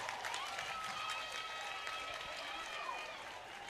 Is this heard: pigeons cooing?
no